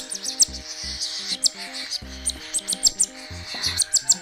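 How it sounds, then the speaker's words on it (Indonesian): Budgerigar chicks give rapid, shrill, begging chirps in short bursts while they are hand-fed. A soft low tone plays along under the calls. "suara anakan parkit Australia kalau lagi dilolohin"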